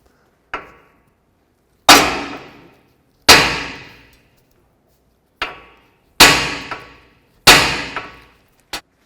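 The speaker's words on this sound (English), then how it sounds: "if you hit the hammer right here, it'll loosen up the ball joint so it'll come out of here" A hammer striking the steering knuckle to loosen a lower ball joint on a 2005–2016 Toyota RAV4, six sharp metallic clangs with ringing decay, spaced irregularly and loud up close.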